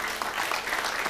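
A hall audience at a televised Quran memorization competition in Indonesia bursts into a brief, full round of applause, dense clapping throughout.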